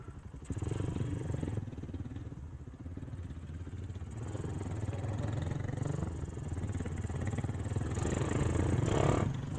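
A Hero 5 motorcycle engine idles steadily near and fairly loud, its rumble wavering and rising slightly as the unstable RPM drifts, with no voices.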